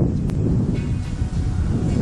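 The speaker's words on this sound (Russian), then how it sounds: "Сегодня ветер такой." Gusty wind rumbles and buffets the microphone outdoors by a lake during a fishing trip, a loud, continuous low roar with no clear voices.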